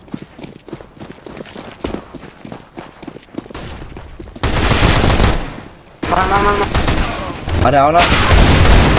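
CS:GO gunfire: at first sparse, scattered shots among footsteps, then dense, loud bursts of automatic fire that fill the second half, with a brief pause between volleys and someone speaking.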